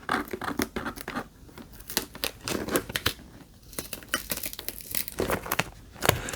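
Packing tape is peeled off a cardboard box in a series of short crackling rips and crinkles, close and fairly quiet, with small pauses between tugs.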